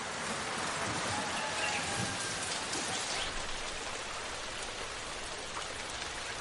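Hard, steady monsoon rain in India pours down as a dense, unbroken roar of drops pattering on surfaces, loud and close throughout.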